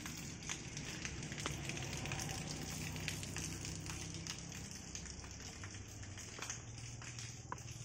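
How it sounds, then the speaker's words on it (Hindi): Steady rain patters and splashes nearby at a home in Himachal, India, a soft continuous crackling wash of water with no voices. "बारिश के पानी की आवाज़ अभी भी हो रही है।"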